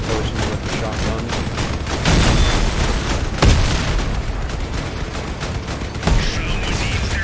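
Rapid shotgun blasts and autocannon fire in the Crossout vehicle combat game, a dense continuous barrage of booms and pops with several heavier bursts standing out.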